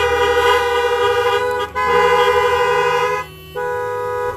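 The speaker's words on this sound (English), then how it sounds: "honk your horns for Jesus" Car horns blare together in a long, steady chorus at a drive-in church service, dipping twice briefly before resuming, loud and close.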